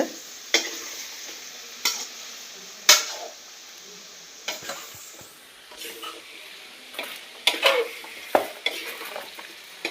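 Cauliflower curry frying in a pan, a soft steady sizzle punctuated by intermittent clinks and scrapes of a spoon stirring against the metal.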